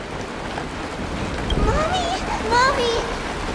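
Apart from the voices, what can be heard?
rain falling in the video game Honkai Star Rail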